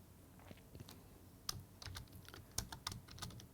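Keys on a computer keyboard are tapped in quick, irregular bursts of crisp clicks, close and fairly quiet, with no talking.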